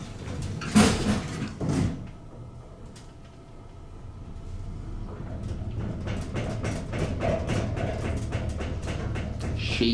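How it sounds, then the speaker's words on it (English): Schindler traction elevator doors at the JW Marriott sliding shut with a couple of clunks, followed by a steady low hum and faint rattling of the car starting to move. "Doors closing."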